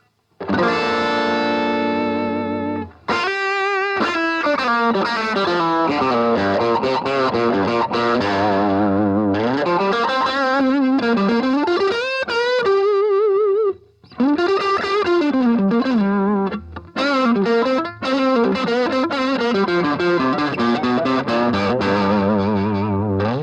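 An electric guitar plays through a Roland Cube 80's deluxe combo amp model, a warm, slightly overdriven tone, strummed chords and sustained notes with chorus-like shimmer, continuous with brief pauses between phrases.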